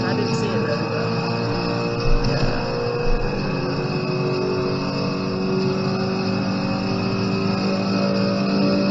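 Engine roar of a car driven in the racing video game Forza 5, a continuous revving drone with shifting pitch and occasional bumps, playing beneath people chatting.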